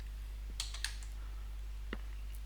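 Faint, sparse clicks of computer keys as a command is typed, a few isolated taps over a steady low electrical hum in a quiet room.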